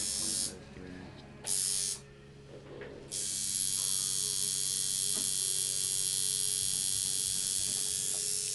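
A tattoo machine with a fine needle buzzes steadily in a tattoo session, a continuous high-pitched whine that starts in short bursts and then runs unbroken, with faint voices underneath.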